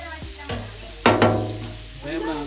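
Squid fries in hot oil in a pan. A steady close sizzle is cut by two sharp clatters of a utensil, over a short stretch with no talk.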